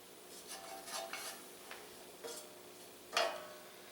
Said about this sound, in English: So I just stirred up enough to get everything coated